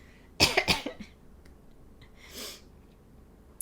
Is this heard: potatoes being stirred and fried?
no